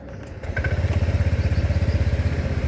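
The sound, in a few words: scooter engine switched on and idling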